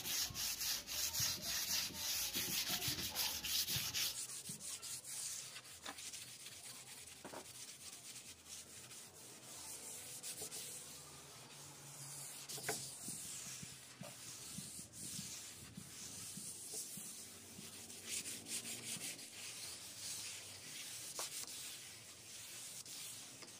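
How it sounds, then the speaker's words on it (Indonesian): A wooden door is wet sanded by hand with 320-grit sandpaper and water. Close, soft rubbing strokes rasp repeatedly over about twenty seconds. The sanding is louder at first, then settles into quieter, steady scrubbing with occasional small knocks. "Jadi waktu ngamperlas itu langsung dikasih air."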